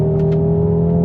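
Simulated engine note from a Hyundai Ioniq 5 N electric car during a downshift, a steady loud harmonic drone with an underlying rumble lasting about a second, no talk.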